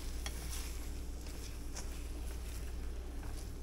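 Eggs cook in a pan for stuffed breakfast muffins, giving a steady, soft sizzle and frying crackle close by, with faint stirring scrapes and light taps over it and no talk.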